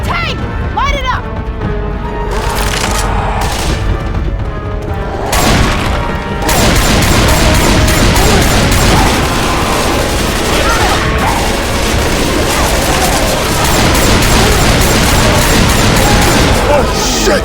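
Loud, sustained gunfire at the Tank in the video game Left 4 Dead 2, with dense bursts, booms and crashes filling the whole stretch while players shout to each other over the shooting.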